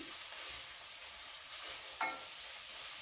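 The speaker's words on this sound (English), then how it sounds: "let's give that a stir" Large chunky cremini mushrooms get stirred in a pot: a steady soft sizzle runs throughout, with a spoon scraping and shuffling through them and one brief clink midway, all close and with no talking.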